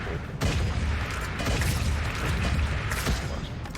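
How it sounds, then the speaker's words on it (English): Weapon explosions in the video game Wall World, a continuous dense rumbling barrage with booming bursts layered over mechanical clatter, loud and sustained throughout. "Oh, okay, the explosion's nice"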